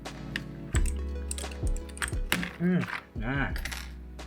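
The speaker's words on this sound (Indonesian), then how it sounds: "Oke, mari kita coba cabut switchnya." An Outemu Blue switch is pried out of an Armaggeddon MKA 7C mechanical gaming keyboard, giving close, sharp plastic clicks and creaking scrapes in irregular bursts. One short spoken word comes near the end.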